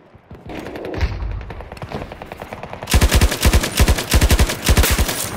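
Automatic gunfire in a Russian-troops sector-capture shooter video game, rapid bursts of loud machine-gun shots, sparser at first and then dense, sharp rattling volleys in the second half.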